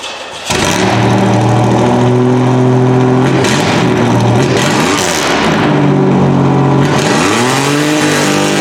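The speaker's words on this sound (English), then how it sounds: "That's the old muffler, and I'm telling you right now, that thing's loud." A 1986 Oldsmobile engine fires up and revs repeatedly through a loud old muffler, the rumbling exhaust note rising and falling in several close, powerful pulls.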